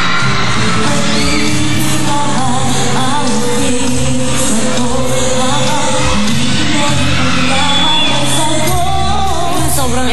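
A dense, loud crowd of fans at a mall show yells and whoops continuously, with shouts and bangs rising out of a constant roar.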